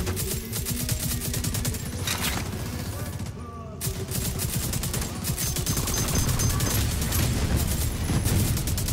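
Sustained gunfire from a firefight already underway at a checkpoint in The Division 2, dense crackling shots and bursts running continuously and fairly loud across the whole stretch, with a brief lull near the middle.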